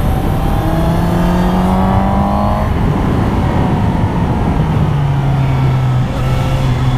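Suzuki Yugen motorcycle leaning through a hairpin turn, engine loud and close with revs climbing, dropping off and building again, a continuous rider's-eye roar with no talking.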